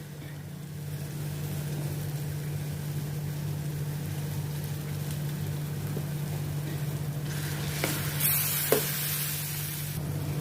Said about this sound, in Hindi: सौटे करती हूँ ताकि मसालों का भी कच्चापन निकल जाए।